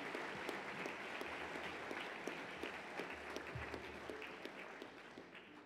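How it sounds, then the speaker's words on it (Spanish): Warm applause from a ceremony audience at a university anniversary event in Santiago, Chile, a steady patter of many hands at moderate distance, sustained evenly with no voices on top. "Demos un caluroso aplauso a estos distinguidos funcionarios"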